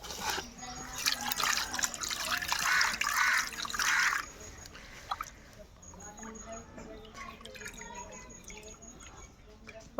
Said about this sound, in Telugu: దీన్ని కడిగేసుకోవాలి శుభ్రంగా